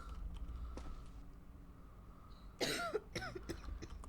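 A sick patient in the video game Quarantine Zone: The Last Check gives a short burst of two or three harsh coughs, fairly close, over a low steady background hum.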